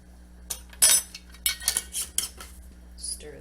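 A metal utensil scrapes and clinks against a pan while taco seasoning is stirred into cooked ground meat, several sharp strokes in an irregular rhythm.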